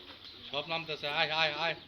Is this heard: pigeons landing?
yes